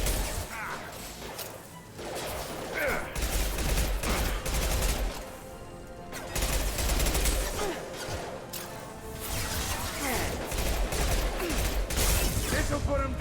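Sustained gunfire and combat noise from the video game Mass Effect 2, with dense rapid shots, crashes and whooshes layered over a loud, continuous battle background for the whole stretch.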